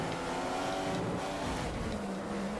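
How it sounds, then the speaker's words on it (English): A Formula One car engine in the racing game F1 2015 drones steadily at high revs through its full length, a continuous buzzing tone with slight pitch shifts and no speech over it. "See, the car just snaking as I put my foot down."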